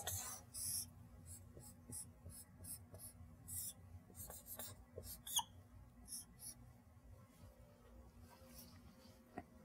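Chalk or marker writing equations on a board in a lecture on graphene nanoelectronics, a quiet run of short scratchy strokes in irregular bursts over a low room hum, with no talk.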